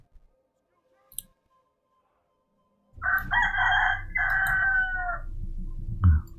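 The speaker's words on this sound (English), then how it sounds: "I hate roosters." A rooster crows in the Medieval 2 Total War video game: a loud, drawn-out crow of about two seconds follows near silence and a few faint clicks, and battle noise rumbles underneath.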